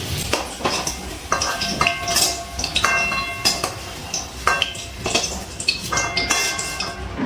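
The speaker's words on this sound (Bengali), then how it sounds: "এবার তেল থেকে আলু ভাজাগুলো তুলে নিচ্ছি।" Fried potatoes lifted from hot oil in a pan, with repeated metallic clinks and scrapes of a spoon against the pan over a steady sizzling bed, close and fairly loud.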